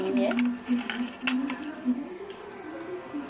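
Ground jackfruit seed paste frying and being stirred in a hot pan, a steady soft sizzle with scraping stirs and light utensil knocks, close by, no talking.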